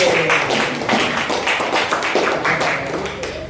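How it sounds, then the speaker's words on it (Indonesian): A group of people clap their hands together at a teacher training program event in Surabaya, a loud, close, steady burst of dense mixed claps that fades slightly toward the end. "Tepuk tangan semuanya."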